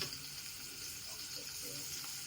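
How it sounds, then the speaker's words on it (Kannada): Finely chopped garlic frying in hot oil in a pan for Gobi Manchurian, a steady hiss and crackle close by that keeps on evenly. A voice talks faintly under the sizzle. "ಬಾಣಲಿ ಆಗಿದೆ ಎಣ್ಣೆ ಹಾಕಿದ್ದೀನಿ ಚಿಕ್ಕದ ಚಿಕ್ಕ ಚಿಕ್ಕದಾಗ ಕಟ್ ಮಾಡಿಕೊಂಡು ಬೆಳ್ಳುಳ್ಳಿ ಹಾಕ್ತಾ ಇದ್ದೀನಿ"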